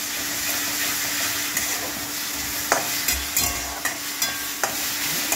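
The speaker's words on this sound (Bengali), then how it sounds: "পেঁয়াজটা ফ্রাই হয়ে গেছে, হালকা লাল হয়েছে, রসুন দিলাম" Garlic goes into onions already fried light brown in a pan, and the oil keeps up a steady sizzle. Intermittent utensil scrapes and knocks from stirring sit close and clear above it, with no talking.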